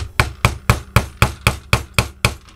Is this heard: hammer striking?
yes